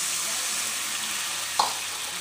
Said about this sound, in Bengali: পুঁশাকটা একটু ভালো করে ভাজা ভাজা করে নিলাম